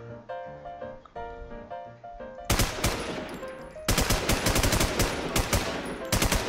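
Gunfire in the video game Infestation The NewZ: after a few seconds of game music, rapid automatic bursts crackle loud and close, with dense repeated shots toward the end.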